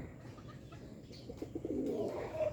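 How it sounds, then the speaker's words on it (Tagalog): Pigeons coo softly nearby, a few low, throaty calls rising toward the end over quiet outdoor background. "itong mga kalapati ko ito, oh. Mga nag-aabang na."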